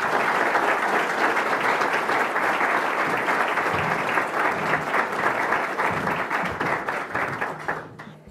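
An audience at a Boston CEO breakfast applauding to welcome a speaker: dense, sustained clapping from a large crowd that holds steady for several seconds, then thins and fades out.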